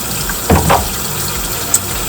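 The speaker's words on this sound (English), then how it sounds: "the first thing we're gonna do is wash our hands" Running tap water while hands are washed, a steady close hiss with a couple of brief splashy bursts as the hands move under the stream.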